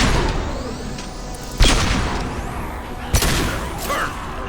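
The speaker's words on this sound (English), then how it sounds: "A misplaced shot can cause a significant explosion." Crates of unstable materials blow up in Mass Effect 2, two loud booming blasts about a second and a half apart, each with a crackling, shattering tail over constant combat noise.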